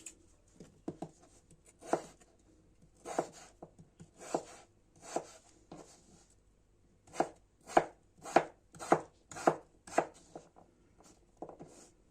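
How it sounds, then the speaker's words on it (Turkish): A knife chops carrots and potatoes into small cubes on a board in a kitchen. The crisp, fairly close strokes come in irregular bursts, quickening toward the end, with no voices. "Havuçlarımızı ve patateslerimizi böyle küçük küçük küpler halinde doğrayacağım."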